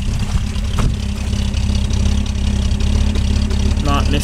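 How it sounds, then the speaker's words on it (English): A Jaguar XK engine fitted with a 123 Ignition Tune+ idles steadily with a low, even rumble that stays loud and close throughout, and a few faint voices sit in the background. "XK engines have ever really loved just sitting and idling."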